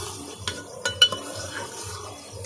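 Chicken frying in a pan is stirred, with a soft sizzle underneath and several distinct scraping clinks of the utensil against the pan at irregular intervals.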